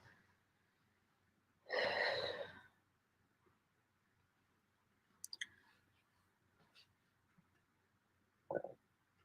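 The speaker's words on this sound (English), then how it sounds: "Burp, burp, burp." One long, deep burp sounds in a quiet room, followed by a few small clicks and a short second burp near the end.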